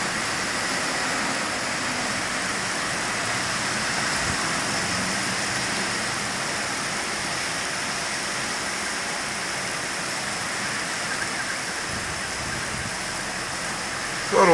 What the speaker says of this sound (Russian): Хороший дождик.